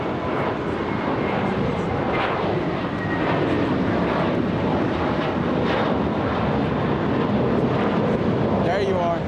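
An Air Canada airliner at LAX airport roars steadily, its engines a loud, unbroken wash of noise mixed with wind buffeting across the microphone.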